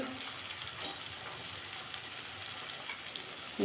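Spiced grated radish for Bengali mulo ghanto fries in a pan with a steady, fairly faint sizzle that holds evenly throughout, with no voices.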